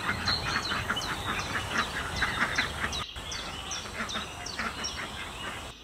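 Ducks in a backyard quack and honk in a rapid, overlapping stream, close and fairly faint, with a short pause partway through before the calls resume.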